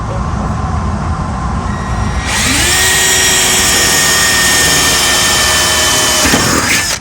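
Power drill boring a hole into the body of a Land Rover with an LS engine swap, one long steady whine that jumps up in pitch and loudness partway through, close and loud, then drops away at the end.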